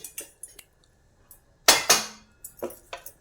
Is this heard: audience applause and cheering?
no